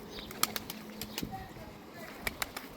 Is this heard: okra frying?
no